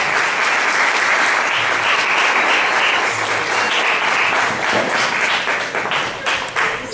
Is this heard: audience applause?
yes